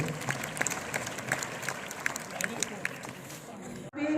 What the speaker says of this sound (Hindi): एक बार जोरदार तालियां संगीता दुबे के लिए